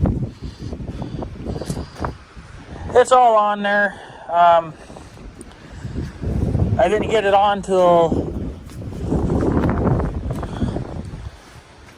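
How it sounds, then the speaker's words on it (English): Strong wind buffets and roars across the microphone in gusts, with someone talking through the noise, near a John Deere X724 with a 54-inch snow blower. "it's just so freaking windy"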